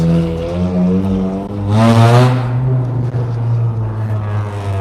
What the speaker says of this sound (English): do loud mufflers impress anybody?